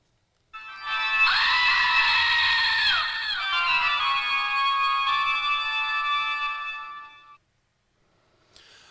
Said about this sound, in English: So it's the scream with the organ from the Addams Family.